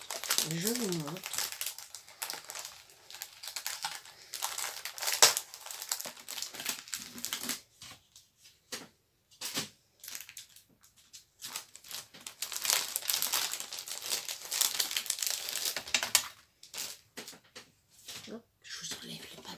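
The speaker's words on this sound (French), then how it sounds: "Je vous enlève le papier pour pas que ça fasse de bruit." Paper wrapping is pulled off a cheap watercolour paint palette and crinkled, with close, irregular crackling bursts that come and go over about twenty seconds alongside a speaking voice.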